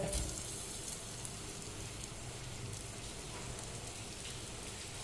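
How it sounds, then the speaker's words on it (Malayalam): Garlic dropped into hot coconut oil sizzles in a steady, even hiss and crackle that fills the whole clip at moderate level, with no voices. "ഈ വെളിച്ചെണ്ണ ചൂടായിലേക്ക് ഈ വെല്ലുള്ളി ഇടുന്നുണ്ട്"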